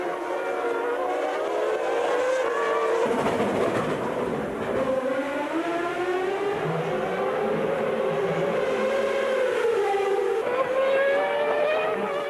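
1997 Formula 1 cars, McLaren Mercedes and Williams-Renault, racing past in the final lap: loud, sustained high-revving engine whine that rises and falls in pitch as the cars close in, with a brief dip midway.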